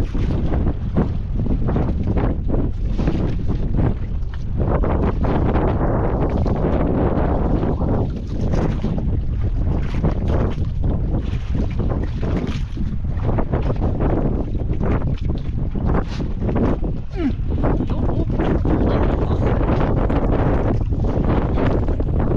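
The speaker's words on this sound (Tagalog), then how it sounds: "Grabing hangin" Strong, gusty wind roars and buffets the microphone without letup, a loud rumbling rush with no talk.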